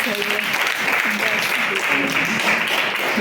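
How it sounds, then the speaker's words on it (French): A church congregation claps steadily through a praise service, the dense applause filling the space continuously and mixed with voices. "Nous applaudissons le Seigneur pour sa vie."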